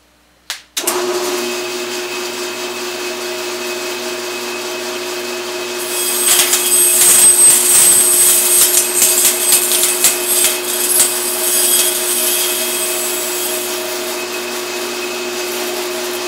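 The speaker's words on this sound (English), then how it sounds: "I'll just bring you into the bandsaw so you can see what happens" A bandsaw motor hums steadily, then the blade bites into wood with a louder, rasping whine for several seconds before settling back to the idle drone.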